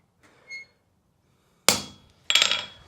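Two sharp metallic hammer strikes ring out on a horseshoe while a nail hole is marked, each followed by a short decaying ring. A faint tap comes just before them.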